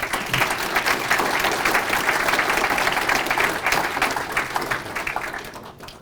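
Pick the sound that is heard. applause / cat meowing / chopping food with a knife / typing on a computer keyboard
applause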